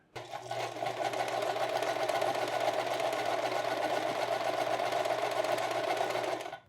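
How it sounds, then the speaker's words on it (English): A sewing machine runs steadily for about six seconds while stitching a curved cap seam, a close, even whirring hum that starts and stops cleanly. "I'm going to sew from one side to the other"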